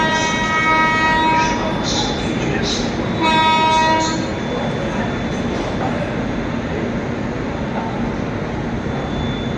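Sealdah–New Delhi Rajdhani Express pulling out of a station, with a loud steady rumble, a couple of bursts of tonal horn or whistle early on, and a continuous rolling drone throughout.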